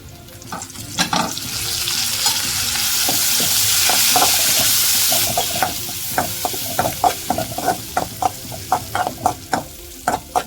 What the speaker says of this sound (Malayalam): ഇനി ഇതിലേക്ക് നമുക്ക് കറിവേപ്പില ചേർത്ത് കൊടുക്കാം.